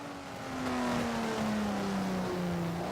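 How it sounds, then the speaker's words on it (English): A car engine in Forza Horizon 4 eases off the accelerator at low revs, giving a faint, smooth drone that dips slightly in pitch over a few seconds with no talking. "It does sound good at low revs though when you let go of the accelerator."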